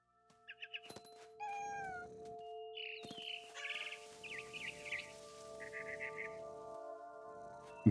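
A cat meows repeatedly in short, high, wavering calls mixed with drawn-out caterwauling cries, loud and close, with a few bird-like chirps and faint thumps early on.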